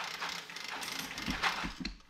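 Retractable pressure washer hose reel winding in a quarter-inch hose, a continuous rattling, clicking mechanical whir with ratchet-like ticks and a few heavier knocks, close by.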